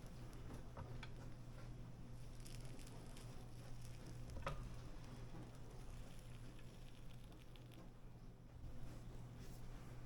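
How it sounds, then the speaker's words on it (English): Steady, low-level sizzling of thin pork steak slices frying in a hot pan, a soft crackling hiss with occasional sharper pops, no talking. "You hear that sizzling sound?"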